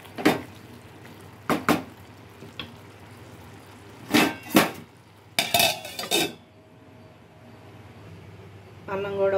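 A lid is set on a cooking pot of curry with coriander in a home kitchen, giving several short metallic clinks and clatters spaced across the clip.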